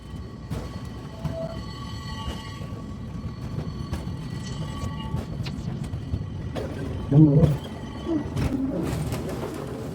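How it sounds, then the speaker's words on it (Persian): A short local train, billed as the world's shortest, rumbles and clatters along the rails with rhythmic knocks and creaks, while pigeons coo nearby and a louder clunk sounds near the end. "بریم سوار این قطار بشیم، کوتاه‌ترین قطار دنیا رو تجربه کنیم"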